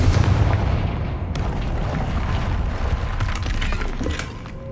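Confringo fire spell from the video game Hogwarts Legacy, several booming blasts with crackling debris over a continuous rumbling backdrop, fairly close, no talk.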